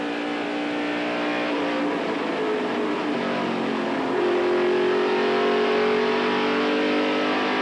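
A stock race car engine revs hard from inside the cockpit during an ARCA SuperCar Series race at Atlanta Motor Speedway, a loud steady drone that climbs in pitch as the driver accelerates, with no talk.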